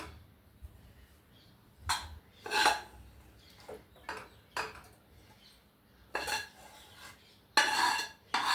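A spoon stirs chopped snake gourd into yogurt in a bowl, giving irregular close scrapes and clinks against the dish with quiet pauses between strokes.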